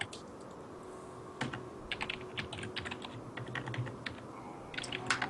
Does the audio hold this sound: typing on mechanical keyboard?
yes